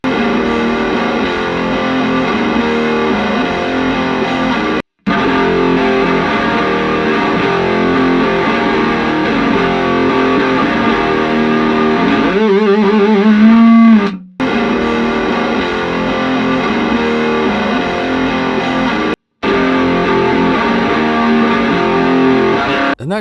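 Heavy distorted electric guitar through a room microphone impulse response plays sustained chords in a roomy, ambient space, loud and continuous with a few brief dropouts and a short bending passage midway.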